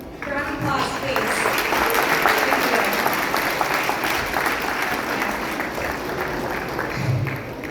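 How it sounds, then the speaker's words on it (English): A lecture audience at a Sunday feast gives a sustained round of applause, dense and steady throughout, with some voices murmuring beneath it. "So one more round of applause, please."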